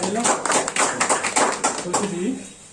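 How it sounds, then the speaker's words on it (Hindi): Crowd applause welcoming newly selected army recruits at an Indian Army Agniveer selection gathering, a short burst of brisk clapping that fades out, heard under a voice. "जोरदार ताली से स्वागत कीजिए"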